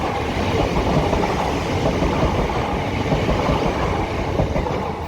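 A Southern Class 377 electric multiple unit passing at a station on the Portsmouth to London Victoria via Horsham line, a loud, steady rolling roar of wheels and motors close by, with no voices.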